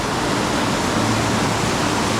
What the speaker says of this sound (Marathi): ब्रिजवर पाण्याला पूर बघा किती आहे